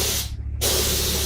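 A spray gun lays a second wet coat of paint onto a car fender in a steady, close hiss that breaks off briefly, then resumes at full strength.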